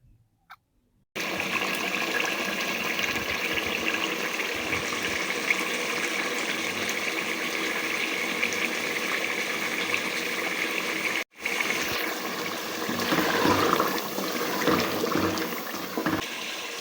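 Water pours steadily into a pot of kaleji masala, liver cooked with yogurt. It makes a continuous splashing gush that breaks off briefly and then resumes, close and fairly loud.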